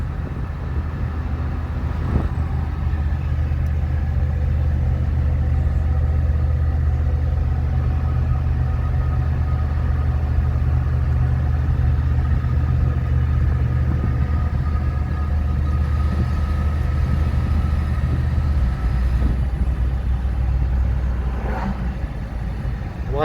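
A 1985 Dodge W150 pickup truck engine drones steadily while driving, a loud continuous low rumble from inside the cab with road noise and no one talking.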